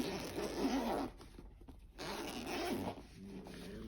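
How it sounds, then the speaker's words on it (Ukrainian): A zipper runs along a grey fabric organizer bag for cables and chargers, two brisk scratchy pulls with a short pause between them, close up and clear, with no voices. "закривається на блискавку"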